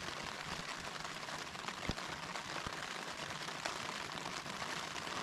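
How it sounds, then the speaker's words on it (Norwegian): Steady rain pattering on a tent in the Norwegian mountains of Børgefjell during a stormy August, a dense continuous hiss with a few sharper drop taps, close and fairly even throughout. "Det regner."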